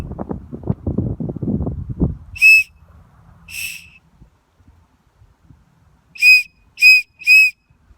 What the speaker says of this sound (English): I'm gonna try my dolphin whistle again.